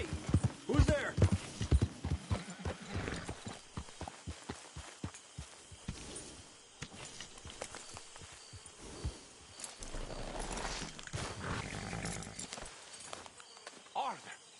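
Horse hooves in Red Dead Redemption 2, a rhythmic clip-clop gallop that thumps prominently at first, then settles under spoken voices and other game sounds.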